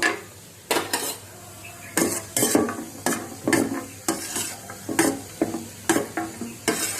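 Peanuts fry in peanut oil for an Andhra-style mango pickle tempering, a continuous sizzle broken by repeated loud metallic scrapes of a spoon stirring against the pan, no talk.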